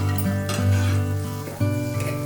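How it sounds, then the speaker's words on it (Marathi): Water from a full bowl pours into fried green-chilli thecha in a hot pan while making besan patwadi, a loud hiss and sizzle swelling as the liquid hits and bubbles, with faint utensil clinks. "त्याच्यात आपण 1 बाउल भरून पाणी घालणार आहोत"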